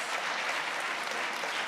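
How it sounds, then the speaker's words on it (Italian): Conference audience at the Barcolana Sea Summit claps for Giorgio Sulligo, a brief, dense and even burst of applause heard alone. "quindi un applauso per Giorgio"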